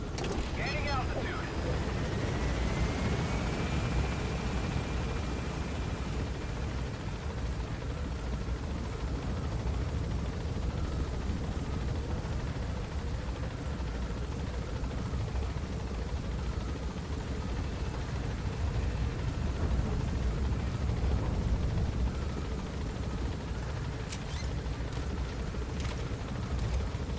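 A helicopter in the Metal Gear video game gains altitude, a dense, steady rotor drone with rumbling low end sustained throughout, mixed with game effects and a brief sharp burst near the end.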